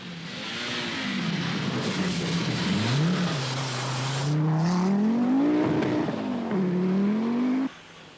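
A 1982 Saab rally car on a snowy Swedish stage in Karlstad, its engine revving hard and loud, the pitch dipping and climbing through the flick and acceleration before cutting away abruptly near the end.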